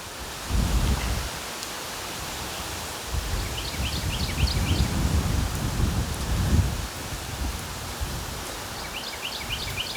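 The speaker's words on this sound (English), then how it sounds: "Again, pardon the wind noise." Gusting wind buffets a microphone outdoors at a tent campsite, producing low rumbling bursts that rise and fall over a steady background hiss, with faint chirping audible in the distance.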